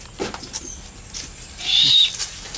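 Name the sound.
barred owls calling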